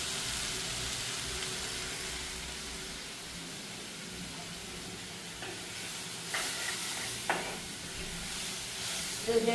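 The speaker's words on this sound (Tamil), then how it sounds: "பூசணிக்காயும் இது கறி மிளகாயும் கொஞ்ச நேரம் வதங்கணும்" Pumpkin and curry chillies sautéing in a pan, a steady low sizzle and hiss throughout with a few faint stirring scrapes near the end.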